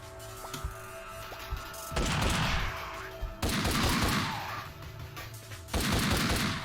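Rapid gunfire with heavy recoil in the video game Elevated Justice: three long, loud bursts of automatic shots, each lasting over a second, with booming, crashing impacts and short quieter gaps between them.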